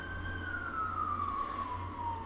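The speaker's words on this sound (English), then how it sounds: "Siren going by." A siren wails steadily, its pitch slowly falling as it passes, over a constant low rumble of traffic.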